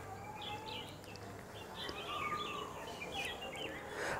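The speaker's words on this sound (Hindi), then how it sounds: "पक्षियाँ उड़ रही हैं आकाश में और पक्षियों ने कभी निराश नहीं किया है, उनकी आवाज़ आप सुनेंगे।" Birds call and chirp in the open sky as they fly overhead: scattered bright tweets and short warbling phrases sit over a steady outdoor hiss, with a faint low hum underneath and no talking.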